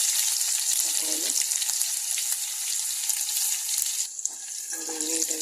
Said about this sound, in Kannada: ನೋಡಿ, ನೀಟಾಗಿ ಫ್ರೈ ಆಗ್ತದೆ.